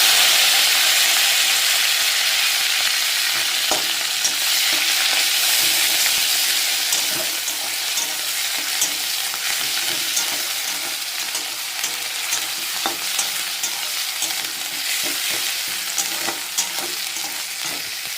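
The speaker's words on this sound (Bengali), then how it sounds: "লং সব দিয়ে দেব দিয়ে মশলাটাকে একটু কষিয়ে নেব ওর মধ্যে পেঁয়াজ বাটা দিয়ে দেবো" Spices and onion paste sizzle and fry steadily in a hot pan while being stirred, a continuous close hiss that eases slightly over time with occasional scraping.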